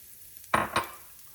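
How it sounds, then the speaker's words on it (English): Garlic for aglio olio with bacon dropped into a pan, giving two quick, close bursts of sizzle and clatter a moment apart, then fading out, with no talking. "We're gonna start with garlic."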